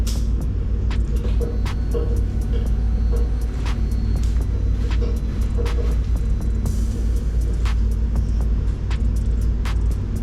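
A motorcycle with smoked rear LED lights idles close by, a loud steady low rumble with constant engine throb and scattered sharp ticks, no voices.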